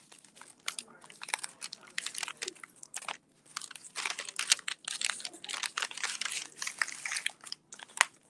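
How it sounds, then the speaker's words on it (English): Comic books being stuffed into a bag make bursts of crinkling, rustling and scraping with short pauses, close and fairly quiet. "Trying to fit all these in a bag for you here, David."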